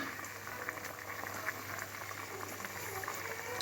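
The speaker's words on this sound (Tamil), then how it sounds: "கொதி வந்துருச்சு." Steady, soft bubbling of a lentil dish boiling in a pot, a continuous gentle simmer with small pops and no voices.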